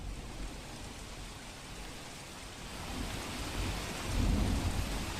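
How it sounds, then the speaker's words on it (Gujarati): Heavy rain pours steadily in Ahmedabad, a dense broadband hiss, while deep thunder rumbles underneath and swells louder near the end, with no voices. "અમદાવાદમાં અવિરત વરસાદ વરસી રહ્યો છે"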